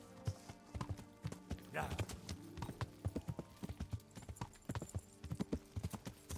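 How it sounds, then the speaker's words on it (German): A horse in the medieval video game Kingdom Come trots with rapid, rhythmic hoof clip-clops throughout and a brief whinny early on, while someone speaks once briefly over it. "Oh, komm schon, Pferd."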